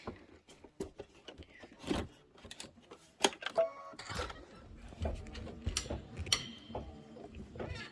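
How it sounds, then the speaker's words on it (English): A sewing machine stitching a decorative outline on a quilted pillow block, giving rapid mechanical ticking and clattering in irregular bursts, close and quiet, with brief talk mixed in. "Stitch the decorative outline."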